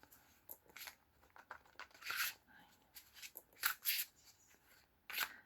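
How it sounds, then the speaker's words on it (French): Tarot cards are shuffled and drawn by hand close by, producing a series of short dry riffles and papery flicks in irregular bursts with quiet gaps between. "je vais vous tirer une carte"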